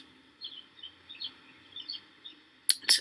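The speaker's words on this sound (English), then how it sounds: "I'm listening and watching the birds" Birds chirp in a quiet city park, several small intermittent calls at moderate distance, followed by two sharper, louder chirps near the end.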